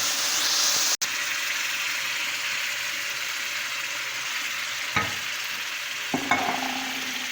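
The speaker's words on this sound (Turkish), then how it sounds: "Şimdi şekerin şerbetini ekliyorum." Semolina roasting with pistachios hisses steadily in the pan as sugar syrup goes in; a sharp click comes early, then a few stirring scrapes follow near the end.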